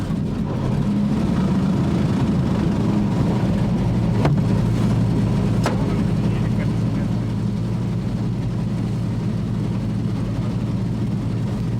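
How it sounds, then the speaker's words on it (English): The left-hand engine of a Bristol Blenheim aircraft roars steadily after starting, a loud, continuous low drone with occasional faint clicks over it. "select left-hand engine start, set the throttle about 1/2 inch from idle, the mixture into the normal position, mags both to on, and hit the starter and the boost button at the same time."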